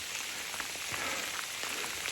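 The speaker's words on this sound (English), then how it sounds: "The rain's turned to sleet. Whew, you see it bouncing off my jacket." Sleet on the Appalachian Trail patters and bounces off a hiker's jacket in a dense, close, continuous hiss of tiny impacts, with no talking.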